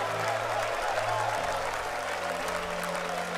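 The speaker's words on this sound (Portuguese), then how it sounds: "Batendo palmas, olha para o céu e comece a glorificar o nome do rei." A church congregation at a men's faith gathering claps steadily as a dense wash of applause, with sustained low organ or keyboard tones underneath and no clear speech.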